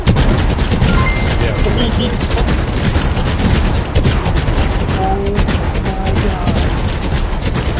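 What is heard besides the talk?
fireworks exploding in the video game Fireworks Mania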